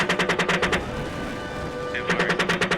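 Aircraft gunfire engaging a ground target, heard as rapid rhythmic bursts of repeated shots at the start and again at the end, with a rumbling engine bed and radio chatter in between.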